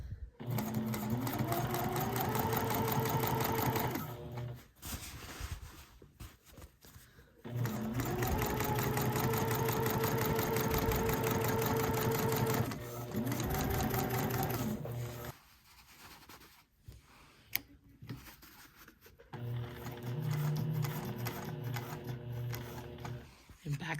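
A sewing machine stitches a zipper in several long bursts of rapid, steady stitching, pausing in between, with brief quiet gaps and faint handling noise.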